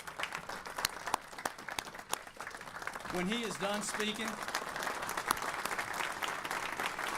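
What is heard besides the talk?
audience applause for Governor Brian Kemp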